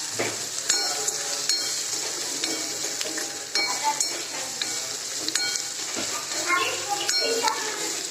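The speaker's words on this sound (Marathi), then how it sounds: "कांद्याचा खूप उग्र वास येते म्हणून लालसर भाजायचा गोल्डन कलरवर" Sliced onion and potato fry in a pan for a potato-onion curry, giving a steady sizzle broken by the clinks and scrapes of a spoon stirring against the pan.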